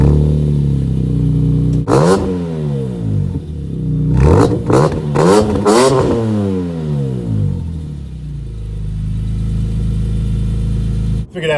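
A 2019 BMW 330i xDrive M Sport engine and exhaust while driving, with several rising rev sweeps through the gears, then a steady low cruising drone close to the microphone.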